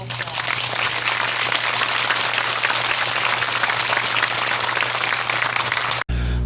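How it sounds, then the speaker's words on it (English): Studio audience applause for EMTs and first responders on a local news broadcast, steady dense clapping for about six seconds that cuts off abruptly near the end. "Let's give all of those folks a round of applause."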